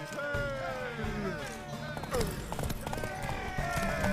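Horse hooves clip-clop steadily at close range while people talk over them, with a brief whinny-like call mixed in.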